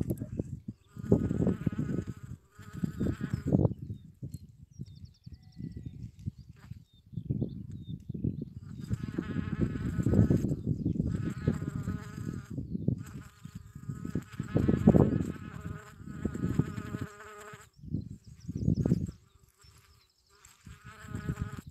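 An early-season bumblebee buzzing outdoors on a windy upland hillside, its low drone rising and fading between loud gusts of wind that rumble over the microphone throughout.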